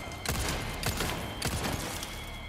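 Rapid bursts of video game gunfire in Resident Evil 4 Remake crackle in quick clusters over a steady background hum, loud and close, with several volleys spread across the moment.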